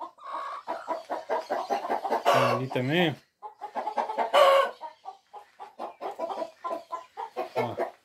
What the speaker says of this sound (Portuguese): Aqui é o galinheiro aqui. Na área você tem umas galinhas ali.